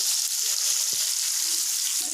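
Whole cinnamon, cardamom and cumin seeds frying in oil, making a loud, continuous close sizzle with a couple of soft knocks from the pan underneath.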